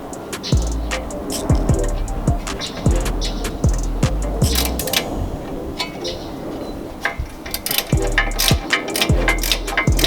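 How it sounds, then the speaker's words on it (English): A ratchet loosens a 17mm rear caliper bolt on a Lexus IS300, clicking in rapid, repeated strokes close by, with birds chirping in the background. "All right, so first is the first 17mm bolt in the back for the caliper."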